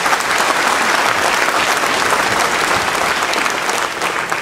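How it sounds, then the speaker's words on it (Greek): Loud, steady applause from a crowd at the grand opening ceremony of a shipyard on Syros, continuous dense clapping close by. "τον κύριο Νίκο Παθανάση, ο οποίος αξίζει ένα χειροκρότημα."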